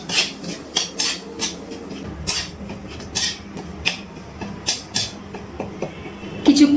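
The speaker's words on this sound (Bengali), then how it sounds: "এবার ফোড়নটা কিছুক্ষণ একটু নাড়াচাড়া করে তেলে ভেজে নিচ্ছি।" A metal spoon stirs dried red chilli, a bay leaf, a cinnamon piece and three cardamom pods frying in oil in a pan, giving repeated scraping clinks at an irregular rhythm over a low sizzle.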